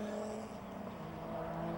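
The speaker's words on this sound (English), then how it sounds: "Here's a Toyota Lexus with a hybrid engine" A Toyota Lexus hybrid race car running at the Nurburgring 24-hour race, a steady engine drone at moderate distance with a faint whine, with no clear pass-by swell.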